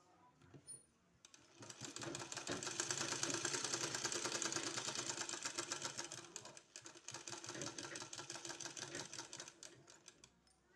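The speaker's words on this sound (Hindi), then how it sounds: "अब इसको हमको कपड़ा में अटैच करना है इस तरह से सिलाई लगाना है पूरे में" A sewing machine stitches piping onto kurti fabric, a fast steady mechanical whirr with rapid needle rhythm running several seconds, then slowing into short bursts, close up.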